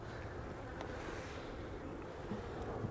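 A steady, low buzzing hum of many bees swarming at a hive, faint and continuous throughout.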